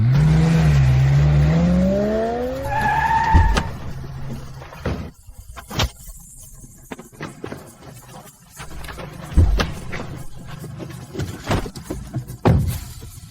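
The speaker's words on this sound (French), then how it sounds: "Zuzi, conduis cette voiture près de cette méchante femme. Vite, vite, vite." A car speeds toward a woman: a loud engine revs and rises in pitch for a few seconds, then gives way to scattered sharp knocks and bursts of mechanical noise.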